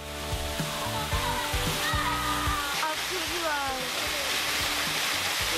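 A waterfall pours and splashes onto people bathing beneath it, producing a dense steady roar with sloshing water, while voices talk over the noise throughout.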